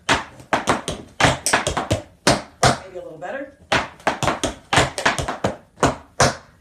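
A cappella foot and body percussion: rapid rhythmic stomps and slaps of feet and hands, sharp and close, in quick bursts with a brief pause midway and a few words spoken.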